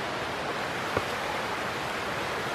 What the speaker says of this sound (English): it sounds like we're in the river